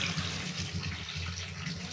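Water pours steadily into a cooking pot holding lemongrass, a continuous close splashing that runs without a break and with no talk.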